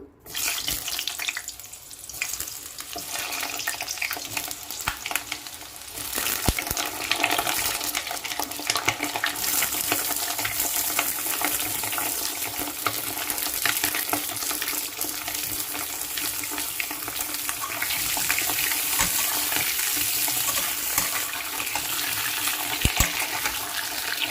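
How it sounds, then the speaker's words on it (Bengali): Pieces of pointed gourd frying in a generous amount of hot mustard oil, giving a steady, dense hiss that runs unbroken for over twenty seconds, close and even, with no voices. "আমি দিয়ে দিচ্ছি একে একে পটলগুলো তেলের মধ্যে ভাজার জন্য।"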